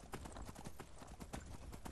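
Horse hooves clip-clop in a steady, fairly quick rhythm in Skyrim VR, a plain black horse trotting along, each hoof strike sharp and close against faint background ambience.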